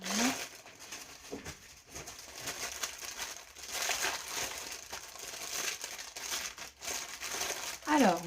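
Paper envelopes crinkle and rustle in near, steady handling through most of the stretch, with a few brief vocal sounds at the start and end.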